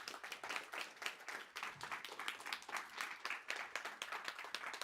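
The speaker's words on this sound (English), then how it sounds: "So please do give yourself a big round of applause." A small audience at the live finals of a writing competition gives the finalists a round of applause, dense, quick hand claps that stay soft and distant without a pause.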